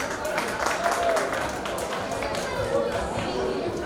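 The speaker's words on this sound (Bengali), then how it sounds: "সবাই ওনার জন্য একটু হাততালি দেবেন প্লিজ" Guests at a child's first birthday party in New York clap together, a scattered round of applause, with voices murmuring and chattering underneath.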